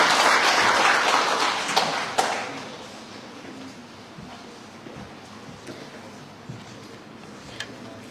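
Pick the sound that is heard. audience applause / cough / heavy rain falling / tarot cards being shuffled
audience applause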